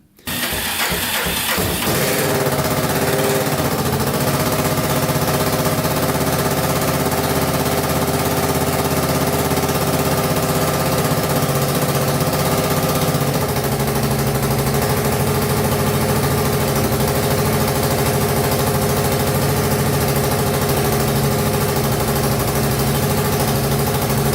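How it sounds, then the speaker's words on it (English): A Kawasaki KLT 250 three-wheeler engine cranks and catches in the first seconds, then idles steadily and loudly close by for over twenty seconds with a constant low rumble and no talking. "Let's get this thing fired up, get that oil nice and hot and drain that out."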